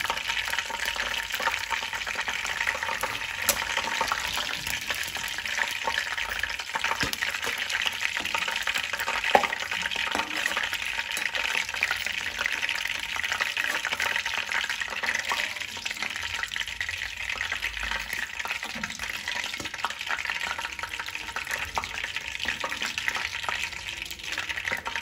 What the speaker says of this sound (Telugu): ఇలా ఆకుని పొడి పొడిగా చక్కగా వేయించుకోవాలి